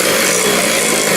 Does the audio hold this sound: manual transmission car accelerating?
no